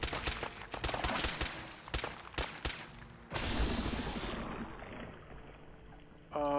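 Rapid bursts of video-game gunfire from Fallout 4's Far Harbor expansion, a run of loud sharp shots over the first three seconds followed by a sustained roaring blast that trails off, with a brief ringing tone at the end.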